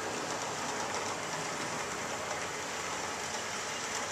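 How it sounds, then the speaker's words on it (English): A model Rio Grande train pulls into a station with a steady, hissing rumble that holds at an even level throughout, with no voices over it. "As the train pulls into the station here"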